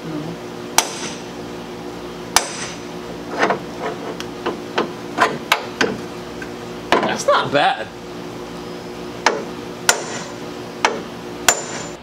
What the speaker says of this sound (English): We're using the back of one hammer here, hitting it with another hammer there, and it's kind of slowly working our way up